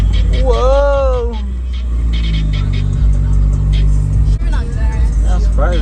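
Car rumbling past at a Honda car meet, a loud close engine drone that holds then swells as it goes by, with excited voices and exclamations over it throughout.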